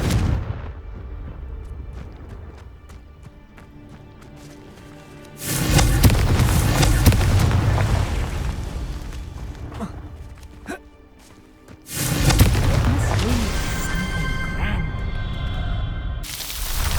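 Confringo blasting curse explosions in the Hogwarts Legacy video game, loud booming blasts with crackling debris, two big bursts standing out over a rumbling game soundscape, with voices in places.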